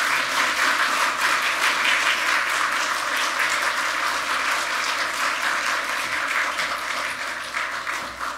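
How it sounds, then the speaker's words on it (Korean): A church congregation applauds to welcome a pastor to the pulpit, steady dense clapping filling the room at full volume for the whole stretch, tapering only slightly toward the end, with no talk over it. "우리가 박수로 한번 환영해 주시면 감사하겠습니다"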